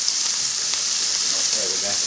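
Lamb chops sizzle in a hot frying pan, a steady dense hiss with faint fat crackle, close and continuous for a couple of seconds.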